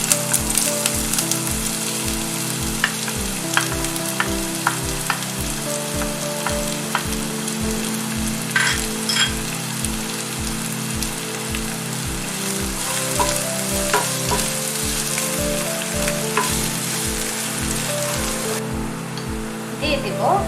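Chopped onion sizzles in extra virgin olive oil for hilsa fish korma, a loud, continuous frying hiss with frequent crackles and a steady low rhythmic pulsing throughout, uninterrupted for about twenty seconds.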